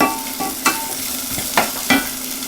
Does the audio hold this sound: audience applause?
no